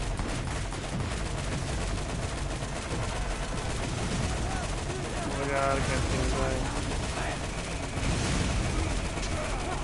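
Dense gunfire and explosions from the video game Borderlands roar continuously at high level, with a player talking over the chaotic combat noise.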